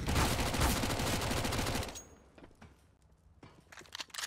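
Mac 10 submachine gun firing in a Counter-Strike match, a dense rapid burst of gunfire for about two seconds, then scattered sharp shots and clicks at lower level.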